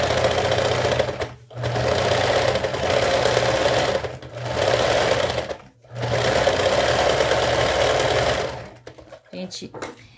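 Sewing machine stitching a tight zigzag on lace for a bra, running in three long continuous bursts separated by brief stops, then a short, uneven final run, loud and close.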